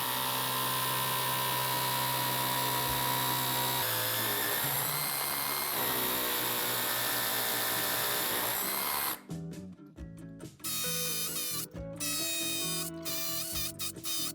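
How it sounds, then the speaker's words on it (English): Power drill with a masonry bit boring into solid brick, a loud, continuous high whine close up that runs steadily for several seconds, then breaks into stuttering bursts as the bit bites and stops. "you are going to have to use a masonry drill bit for this"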